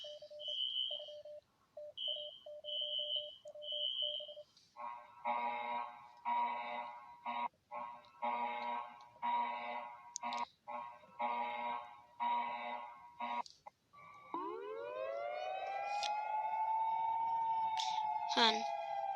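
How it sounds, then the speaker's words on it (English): Emergency alert alarms play in sequence: short repeated two-tone beeps, then a pulsing buzzing alert, then a rising wailing siren tone, with a voice speaking over parts of it. "sounds like a alarm"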